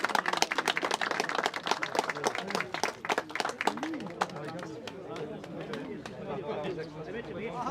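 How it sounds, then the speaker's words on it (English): An audience at a memorial event applauds Noel Torpy, a dense burst of clapping that thins out over several seconds while people chatter and talk over it. "A round of applause for Noel Torpy."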